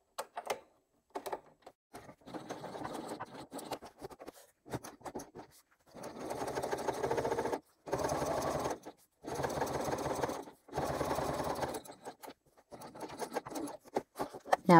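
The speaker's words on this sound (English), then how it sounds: "Back stitching in the side seam allowance first, and then top stitching along the upper edge." A sewing machine top stitching along the upper edge of a crossbody bag, running in quick whirring bursts broken by short pauses, fairly quiet and close.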